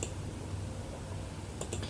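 A computer mouse clicks on an OK button: a soft room-tone hum, then a couple of quick sharp clicks near the end.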